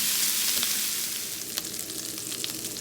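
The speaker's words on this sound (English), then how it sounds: "just continue to take the back of the spoon and just break it up as you're cooking it" Country sausage sizzles steadily in a hot pan, a dense continuous frying hiss with occasional soft scrapes and taps as a spoon breaks the meat apart; close and alone, no talking.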